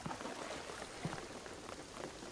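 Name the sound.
rain falling, in the Tomb Raider video game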